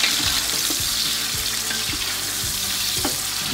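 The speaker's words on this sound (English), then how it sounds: "So we add the onion and give it a quick saute." Chopped onion sautéing in hot oil for chicken pulao, a steady close sizzle with periodic scrapes and clinks of a spoon stirring the pan, no voices.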